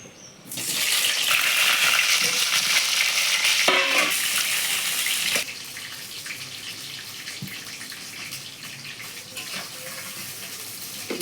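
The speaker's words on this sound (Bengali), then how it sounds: "এবার আলুটা ভেজে নেব।" Potatoes go into a pan of hot oil with ginger, garlic, dried and green chillies, bay leaf, cumin, fennel and pepper, setting off a loud surging sizzle that eases after a few seconds into a steadier, quieter fry with small crackles.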